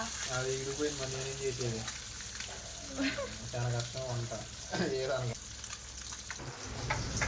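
Fish pieces fry in a pan of oil, giving a steady crackling sizzle throughout, with a voice talking intermittently over it.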